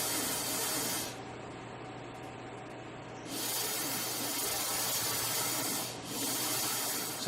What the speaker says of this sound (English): take a disc and flatten and smooth the neighboring tooth